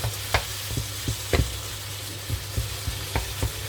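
Meat cooks in a hot pan with a low continuous sizzle while a utensil taps and scrapes it in short irregular stirs, close by, with no talking.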